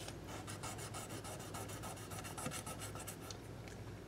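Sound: sanding guitar frets with 1000 grit sandpaper

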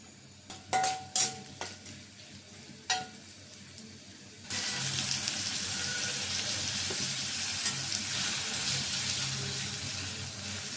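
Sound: chopped onion frying in oil

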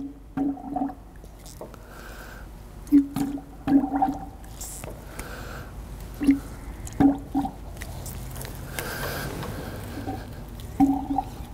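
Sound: bench bleeding brake master cylinder on GMT400 truck, fluid squishing

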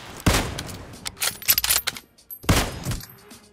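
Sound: K9 gun firing in the video game BGMI

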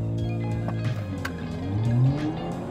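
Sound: Audi B9 launch control start with tire skipping

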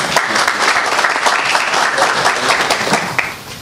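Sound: audience applause at a town council meeting

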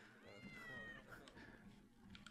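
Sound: cat meowing

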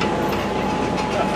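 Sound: amusement park tram rolling on rails

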